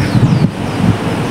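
Wind blows steadily across the microphone in the new park at LOHAS Park, Hong Kong, a loud, continuous low rumble with gusty swells and no talking.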